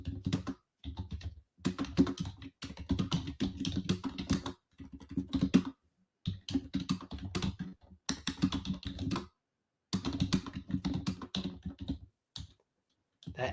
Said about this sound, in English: I'm going to just type it in our group.